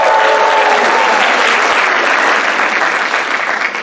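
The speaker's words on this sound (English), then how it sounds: "Let's give a round of applause." A large crowd at a 2023 university Vietnamese Student Association culture show breaks into loud, sustained applause. The clapping is dense and roaring from start to finish, fading only slightly at the end.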